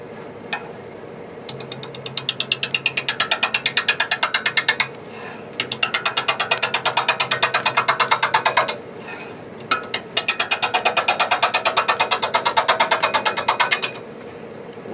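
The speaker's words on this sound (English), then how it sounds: "I want to be taking a slicing cut with a roughing gouge" A wood lathe at about 600 RPM with a roughing gouge taking slicing cuts on a four-sided jar blank, giving rapid rhythmic knocking chatter in three long bursts separated by brief pauses, loud and close, with no voices.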